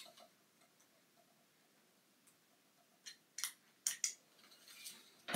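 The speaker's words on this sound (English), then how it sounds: "I will cut off both of these tag ends" A few crisp snips close by as braided fishing line tag ends are trimmed after tying a knot while respooling an Abu Garcia Revo SX reel, with quiet pauses between the cuts.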